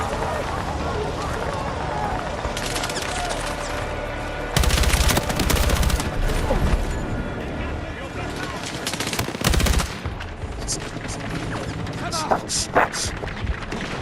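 Bursts of automatic gunfire and fusillades in the video game Battlefield 6, loud rapid volleys over a constant battle din with running footsteps, heaviest in two dense stretches, with a voice talking over parts of it.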